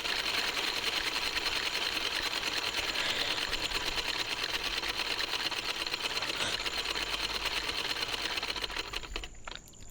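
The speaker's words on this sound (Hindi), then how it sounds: "तो कुछ इस तरीके से हमें जो बची हुई जगह थे उसमें भी हम इसे घुमाते हुए ही सिलाई" A sewing machine stitches around the hem of a salwar leg opening, giving a steady, continuous mechanical whir at close range with no pauses or talking, easing off slightly at the very end.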